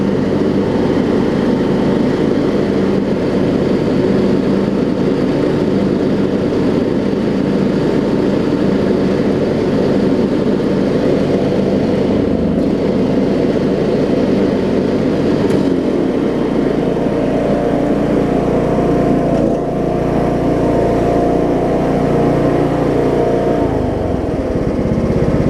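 A John Deere LA105 lawn tractor engine runs steadily and loudly for the whole stretch, a constant mower drone with a few brief dips and changes in load near the end.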